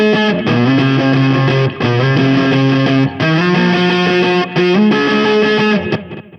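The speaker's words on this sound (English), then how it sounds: "I'm using the Echo Bandit to give us some really cool, lush, kind of like tape echo sound." An electric guitar runs through an Echo Bandit tape echo pedal, giving a loud, lush, sustained tone with repeating chords that swell and blend, pausing briefly between phrases before trailing off at the end.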